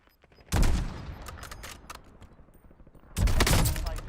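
Two loud, close gunshots from a sniper rifle in a video game ring out about two and a half seconds apart, each with a long decaying tail, while faint clicks sound in between.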